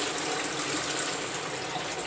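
Toilet flush in a marble-finished public restroom at a marina construction site in Johor, Malaysia: a steady rushing gush of water filling the whole clip, close and continuous without talk.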